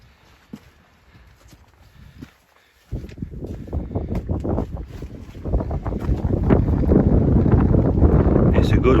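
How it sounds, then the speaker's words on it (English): Wind gusting through a gap on an open hillside, a rough buffeting roar that starts faint, jumps sharply, then builds steadily louder, battering the microphone with close rumbling turbulence. "Wind's blowing right through this gap as well"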